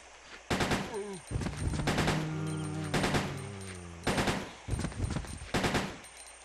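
Automatic gunfire in Resident Evil Code Veronica X comes as several loud, sharp bursts of rapid shots, separated by short gaps and mixed with in-game sound effects and tonal game audio.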